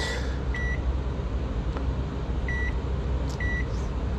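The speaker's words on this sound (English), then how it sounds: "Then using microwave oven, defrost." A low steady microwave oven hum runs throughout while short electronic beeps sound three times, spaced apart.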